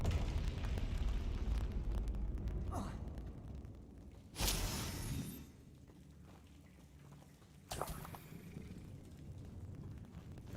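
A Bombarda spell explodes in the video game Hogwarts Legacy: a sharp, loud burst around the midpoint, then a second, smaller blast near the end, over steady game background sound.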